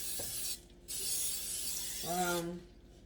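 Two short hissing bursts of canola oil cooking spray from an aerosol can sound up close, separated by a pause, with a faint mechanical click and a brief low hum.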